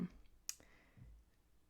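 A single crisp computer mouse click, close and quiet, in an otherwise hushed room.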